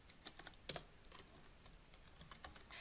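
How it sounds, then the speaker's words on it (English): A name being typed on a computer keyboard in a quiet room: quick, soft key clicks in short irregular bursts, close and faint. "So I'm going to type in Effingham Townley."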